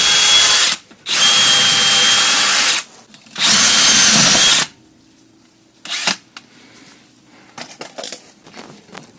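Three loud, sustained bursts from a power tool cleaning the brake hub of a Porsche 928, each running a second or more with short gaps, followed by faint clicks and light handling noises.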